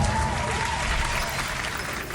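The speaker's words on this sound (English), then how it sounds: "We'll give a cheer for that." Steady, dense crowd applause and cheering plays as a game sound effect in the Dune Imperium digital board game, a continuous even wash of clapping for the whole stretch.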